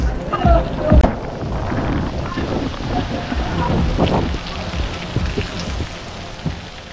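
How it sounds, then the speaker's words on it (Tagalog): Heavy rain pours steadily onto a surface in Morong, Bataan, a dense constant hiss with scattered louder drops and gusts of wind buffeting the microphone, with voices faintly mixed in. "Grabe yung ulan, lakas!"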